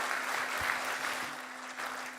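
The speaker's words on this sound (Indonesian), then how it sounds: "kita berikan tepuk tangan yang meriah buat beliau" An audience at a university doctoral graduation ceremony in Indonesia applauds Megawati Soekarno Putri, soft, fairly distant steady clapping with a faint constant hum underneath.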